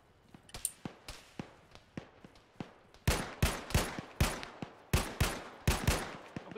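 Gunfire in a video game: a rapid series of sharp, regular shots, fairly quiet at first and then noticeably louder and closer, with no talking.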